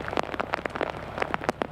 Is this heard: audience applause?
no